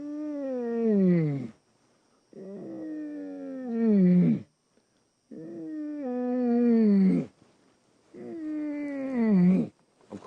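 A man imitates a lion's roar with four long, drawn-out moaning calls, each a deep voiced groan sliding downward in pitch, separated by short silences, loud and close.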